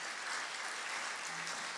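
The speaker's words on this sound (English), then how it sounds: "I'd like to ask you to give a round of applause to Don for setting this whole thing up." An audience applauds a man named Don at a Cal Poly speaker event about the 1960 football team plane crash, a dense steady wash of clapping from a crowd, moderately faint.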